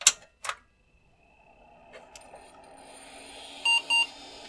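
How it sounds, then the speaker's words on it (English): A pair of short electronic beeps rings out near the end after a couple of clicks and a rising fan-like hum from a retro PC starting up. "Oh, it beeps."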